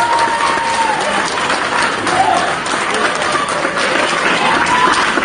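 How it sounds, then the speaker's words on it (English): Crowd cheering and applauding on a played-back recording, a dense, loud, continuous roar of voices and clapping lasting throughout with no pauses. "That was the mob cheering."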